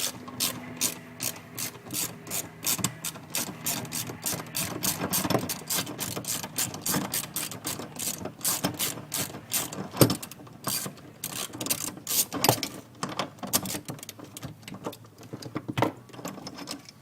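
A hand ratchet clicks rapidly and steadily while unbolting the center seat belt bolt in a car during a Clazzio seat cover install, close and crisp in continuous back-and-forth bursts with no talking.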